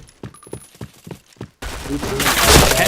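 Gunfire from the shooter video game Point Blank: a quiet stretch of sparse thuds, then a sudden loud, dense burst of rapid firing that fills the last half of the clip.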